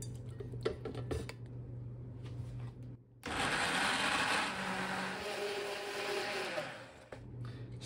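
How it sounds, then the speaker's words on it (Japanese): A blender purées cooked onion soup for about four seconds, a dense high-pitched grinding roar that starts abruptly and stops, framed by quieter kitchen hum. "粗熱が取れたのでミキサーにかけていきます。"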